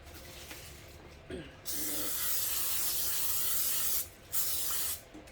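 Short bursts of aerosol olive oil spray hiss close by onto a casserole dish, one long spray of several seconds followed by a brief second burst, with light handling noise around them.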